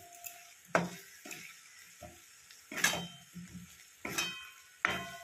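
Potatoes and spices fry in a pan for Bengali aloo potoler torkari, with repeated scraping stirs and clanks of a spatula over a soft, steady sizzle, loud and close.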